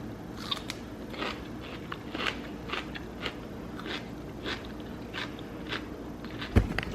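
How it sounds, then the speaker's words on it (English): Grillo's pickles from Costco being bitten and chewed, a series of crisp close crunches spaced across the moment with quiet gaps between bites. "I'm gonna eat some of these Grillo's pickles from Costco"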